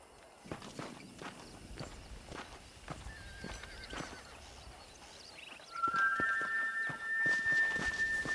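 Horse hooves clip-clop steadily in Red Dead Redemption while cattle are herded to pasture, with whinnying cries and louder movement building toward the end.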